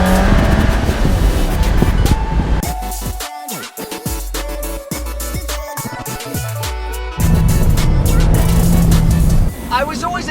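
An Alfa Romeo 4C sports car engine while driving, a loud continuous engine note that climbs and drops through gear changes, heard alongside someone talking over it.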